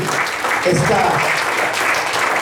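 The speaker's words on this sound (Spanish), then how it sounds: "Den un aplauso al Señor" A church congregation applauds at a Sunday service, a dense, sustained wash of many hands clapping at moderate distance, with voices mixed in beneath it.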